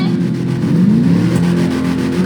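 A car engine in GTA Online revs and accelerates, a loud steady drone with a rising engine pitch that climbs, dips and climbs again, close and continuous.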